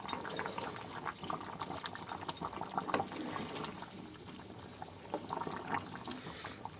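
Egg curry simmers in a pot with gentle bubbling and soft popping, a faint, steady liquid burble heard close up with no one speaking over it.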